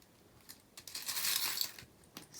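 Small metal tarot charms clink and jingle as they are placed onto a reading layout, a cluster of bright tinkling taps swelling in the middle and then fading to a few isolated clicks, close and clear with no talk.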